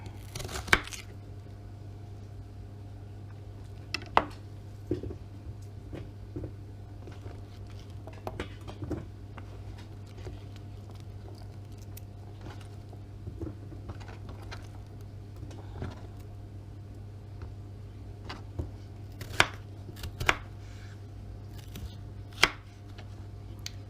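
Vegetables being chopped into cubes on a board for a Spanish omelette with garden spinach, giving scattered quiet knife taps at an uneven pace over a steady low background hum.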